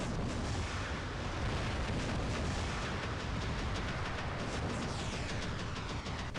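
Robot weapons in the War Robots mech game pour continuous heavy fire at a nearly stationary enemy robot. The barrage is loud and dense, with booming, artillery-like blasts running together for the whole stretch.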